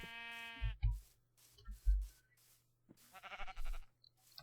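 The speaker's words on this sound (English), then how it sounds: "there's a grey sheep over there" Several short sheep bleats from Minecraft, harmonic and nasal, separated by pauses, alongside a few soft low thumps.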